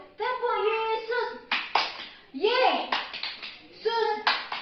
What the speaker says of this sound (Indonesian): Yuk, tepuk Yesus.